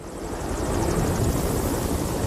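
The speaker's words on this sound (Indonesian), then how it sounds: "Peter pun menggunakan helikopter untuk menemui Vic di tempat persembunyiannya." A helicopter in a mountain-climbing film, its steady rotor chop and engine roar filling the scene loudly and continuously with no voices.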